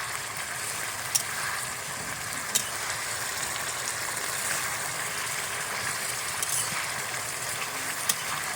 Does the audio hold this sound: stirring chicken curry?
yes